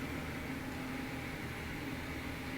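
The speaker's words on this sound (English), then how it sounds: "that's just an engine whirling outside" Heavy construction machinery across the street drones with a steady, muffled engine whir, constant and unbroken, heard from indoors through an open door.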